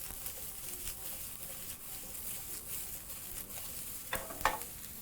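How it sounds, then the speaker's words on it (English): Cauliflower and broccoli sizzle in a hot pan with a steady frying hiss, while stirring and tossing add soft clatters and a couple of sharper knocks near the end. "proceed to add the broccoli. Proceed to toss those in the pan."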